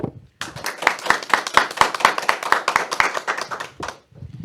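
Studio audience clapping to welcome a guest, José Pablo Bonilla, on a Spanish-language talk show: a bright run of distinct, fairly close handclaps after a brief pause, lasting several seconds before fading out.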